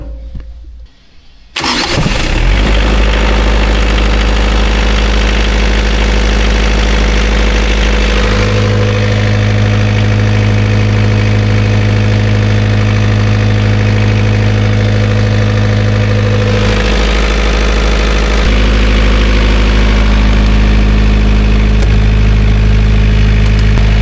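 A car engine cranks and starts on a test run after an oil and filter change, then settles into a steady, loud idle with a low droning hum that holds throughout, no talk over it.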